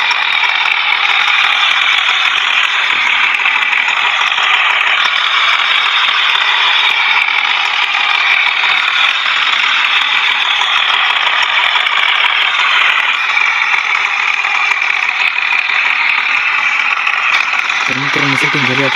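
John Deere tractor engine in a tractor driving video game, a loud continuous droning hum with a rattling edge that holds steady throughout and ends with a brief rhythmic knocking.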